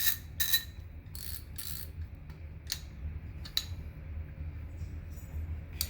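Rusty Matco and Snap-On ratchets spun in reverse after being buried, giving a few short bursts of dry clicking, some fast and some single ticks, over a low steady hum.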